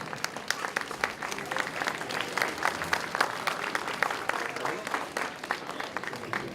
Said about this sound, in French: On peut l'applaudir encore.